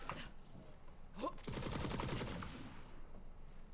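Video-game gunfire in Borderlands 3 as a target is shot: a short whoosh, then a loud, dense stretch of rapid automatic shots lasting a couple of seconds before fading into background noise.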